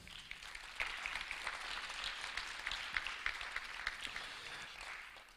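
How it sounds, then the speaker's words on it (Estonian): An audience at a formal company awards ceremony bursts into applause, a dense, steady wash of many hands clapping that holds for several seconds before tapering off, somewhat distant in a hall. "Aplaus neile."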